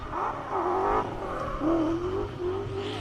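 Drift car wails around the Teesside track in British Drift Championship qualifying, engine note rising and falling steadily as it slides, loud and continuous with a faint tire hiss.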